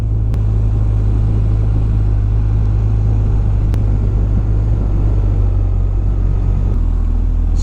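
A BMW R1250R motorcycle's engine rumbles low and constant while riding, with steady wind and road noise and the tone easing slightly near the end, no voices.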